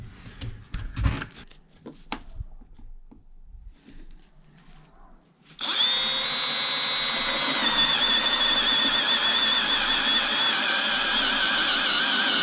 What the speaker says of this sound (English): then drill the holes